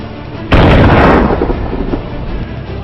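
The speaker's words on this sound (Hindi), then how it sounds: "इसके बाद जान पर खेलते हुए सिपाही शिवराम ने यह पोस्ट उड़ा दी।" A military post blown up in combat erupts in one sudden, loud, deep blast that rumbles and decays over the next couple of seconds, with nothing else heard.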